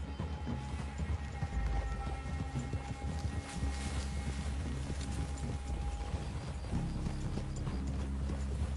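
Horse hooves clip-clop at a steady walking pace in the video game Red Dead Redemption 2, over a constant low rumble, with faint mechanical creaks mixed in.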